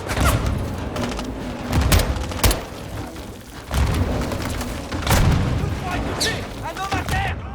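Gunfire crackles through a battle in Call of Duty: Modern Warfare 2 on PS5, with repeated bursts and booming shots over a dense roar of combat, while soldiers shout in the background.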